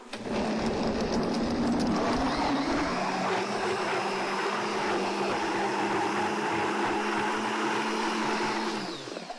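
A 1989 Vita-Mix blender runs at high speed blending soup of hot water and chicken bouillon, a steady loud motor whine that holds for nine seconds and settles into a smoother drone.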